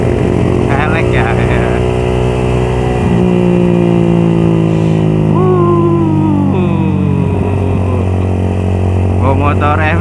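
A Suzuki Satria F150 motorcycle engine drones steadily and loudly while riding in Jakarta, its pitch rising and falling with throttle changes, with wind noise and a voice speaking over it.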